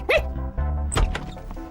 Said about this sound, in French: C'est Kiwi, le chien de Odd.